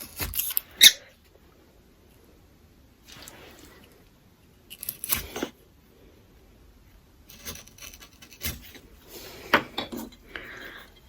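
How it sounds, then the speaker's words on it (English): Small and wide chisels cutting a mortice in wood by hand, several sharp, close knocks and scraping taps separated by quiet pauses, with soft talk in between. "I'm just going to take my smaller chisel actually and come down and cross"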